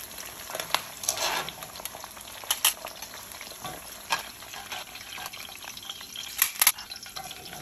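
Vegetables frying in oil in a wok for beef chow fun with black bean sauce, a steady soft sizzle with scattered clinks and stirring scrapes.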